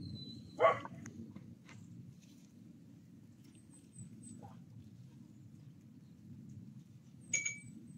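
A dog gives a couple of short, faint barks several seconds apart against a quiet, hushed background.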